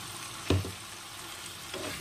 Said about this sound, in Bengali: ভেজে রাখা চিংড়ি মাছটা এখন এর মধ্যে